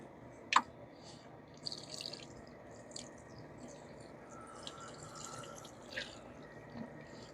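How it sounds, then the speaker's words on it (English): Water trickling onto freshly planted seeds in a balcony garden pot, faint soft drips and splashes with one sharper drop near the start, quiet and close. "and then we'll water them in"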